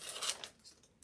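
Scissors snip through a piece of moss for a spring door hanger, a few quick, faint crisp cuts close by, with no talking.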